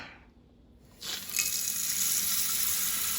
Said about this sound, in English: I am going to fill up my water from my pasta right here on the pot.